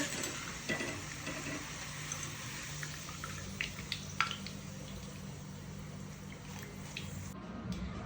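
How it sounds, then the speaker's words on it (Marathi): Thin banana wafers deep frying in hot oil, a soft continuous bubbling sizzle with light scattered clicks, fairly quiet and steady. "मस्त असं तेल गरम झाल्यानंतर असे कडक फ्राय होईपर्यंत तळून घेऊया।"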